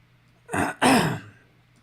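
Two short, breathy coughs in quick succession, close by, followed by quiet.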